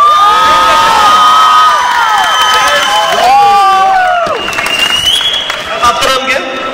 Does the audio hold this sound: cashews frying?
no